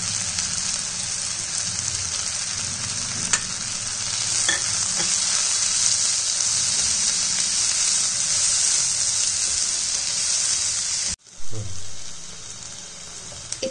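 Onion and tomato masala sizzles steadily in a pan after chili and turmeric powder go in, a loud continuous fry with scraping stirs, briefly cut off near the end before resuming.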